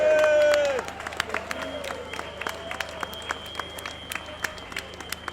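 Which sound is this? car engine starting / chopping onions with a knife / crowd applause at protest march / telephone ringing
crowd applause at protest march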